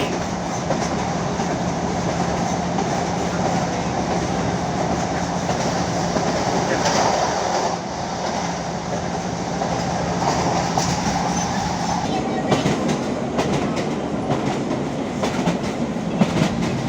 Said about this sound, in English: A ride along one of the country's less well-known routes, and one which deserves to be much better celebrated, the old Maryport and Carlisle line.